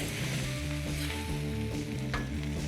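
Char kway teow noodles stir-fry in a hot wok, giving a loud, continuous sizzle broken by rhythmic scraping and tossing sounds, with a sharper clank near the end and no talking.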